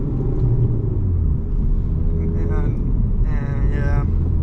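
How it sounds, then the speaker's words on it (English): Modified 2022 Honda Civic Si with a turbo, high volume intake, parallel inlet pipe, down pipe and front pipe, cruising at night with the windows down, its low steady road rumble under someone talking. "I kind of lowered the windows down so you can hear the car more."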